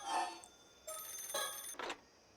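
A telephone rings in the Paranormasight video game, a bright electronic trill in short repeated bursts at moderate loudness, with no talk over it.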